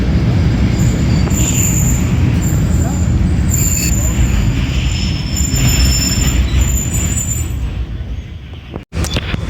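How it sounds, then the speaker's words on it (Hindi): A passenger railcar sits on the main line at Muridke railway station with loud, continuous rumbling and hiss, some high squealing tones above, and a sharp clunk near the end. "तो मुरीद के रेलवे स्टेशन की मेन लाइन पे ट्रेन हमारी रुकी हुई है"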